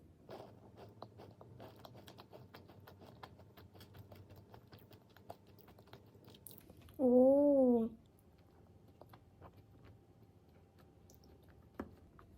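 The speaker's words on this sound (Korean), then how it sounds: "그냥 앙 하자마자 그냥 힘없이 바삭 부서지는 그런 식감이에요" A light, crispy plain scone from Pitto Bakery bitten and chewed close up, with faint, scattered crunchy crackles and a brief tonal whine partway through.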